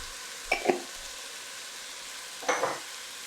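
Pasta sauce with a spoonful of paprika stirred in a pan: two short scraping, sizzling strokes about two seconds apart over a faint background hiss, with no talking.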